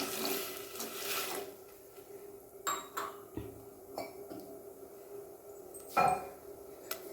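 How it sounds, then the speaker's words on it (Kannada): Water poured into a pan of sugar syrup for gulab jamun, with soft splashing and a few clinks of a glass or vessel against the pot in a quiet kitchen, no talking. "ಸ್ವಲ್ಪ ನೀರು ಕಡಿಮೆ ಅನ್ನಿಸ್ತು ಅದಕ್ಕೆ ಇನ್ನೊಂದು ಅರ್ಧ ಗ್ಲಾಸಷ್ಟು ಆ್ಯಡ್ ಮಾಡ್ತಾಯಿದ್ದೀನಿ"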